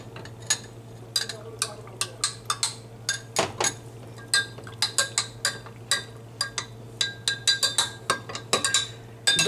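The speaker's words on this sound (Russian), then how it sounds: "И размешиваю их в холодной воде." A spoon clinks repeatedly against the sides of a bowl in quick, uneven taps, close up, while stirring starch into cold water, with a low steady hum beneath.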